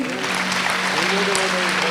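A congregation claps steadily at a Christian fasting prayer meeting, with a voice or tones held over the dense, even applause.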